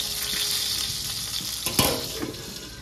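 Stuffed green chillies fry in hot oil with a steady, close sizzle, a brief clatter of stirring breaking through partway before the frying hiss settles again.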